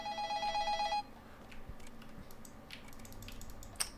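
A telephone rings in the horror game Incantation: a bright, steady electronic ring with stacked tones fills the first second, then stops abruptly, leaving faint ambient noise with a few soft clicks and taps.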